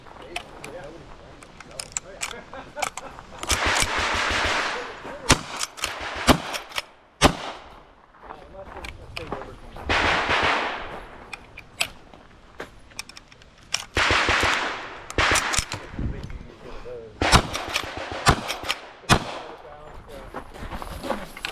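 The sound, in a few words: carbine gunfire at a shooting competition stage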